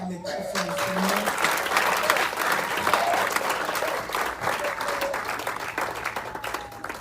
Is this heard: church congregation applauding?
yes